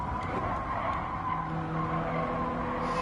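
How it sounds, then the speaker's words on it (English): A low-powered race car in a racing video game runs over a rumble strip while braking, a steady buzzing rattle mixed with engine drone and tire noise, continuous and moderately loud, with no talking. "I'm hitting that rumble strip for braking."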